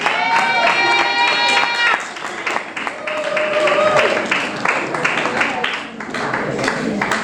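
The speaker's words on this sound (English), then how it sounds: "let's give them all a round of applause" Audience applause and cheering at a student awards ceremony on Cat Island, Bahamas: a dense, sustained clatter of many hands with scattered shouts, starting just after a short vocal cry and holding loud throughout.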